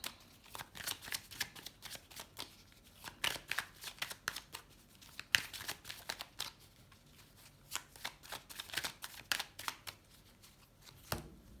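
Tarot cards being shuffled by hand, a quiet, close series of rapid riffling and slapping bursts in an irregular rhythm, with no talking.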